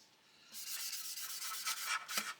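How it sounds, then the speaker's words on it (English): Close, quiet strokes of 800 grit sandpaper rub across the trailing edges of a 1/72 Airfix Vulcan model plane, several short brushy swipes after a moment of near silence. "get the 800 grit, sand over it"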